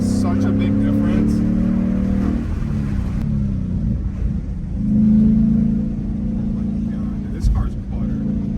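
2022 Ford Mustang Mach 1 V8 with a 10-speed automatic under hard acceleration, a loud rising engine roar that dips at a shift and then builds again, heard from inside the car with voices talking over it.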